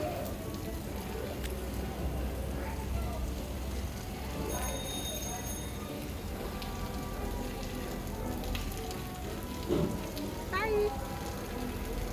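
Rain falling at a resort in Bangladesh, a steady soft patter on surfaces with a faint background hum and a few scattered knocks and chirps.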